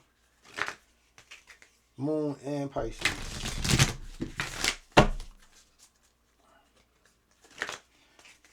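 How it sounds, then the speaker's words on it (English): A deck of Moonology oracle cards is shuffled by hand, giving a couple of seconds of crisp riffling and slapping bursts. A nearby voice speaks briefly before and after. "Shuffle up my Moonology cards."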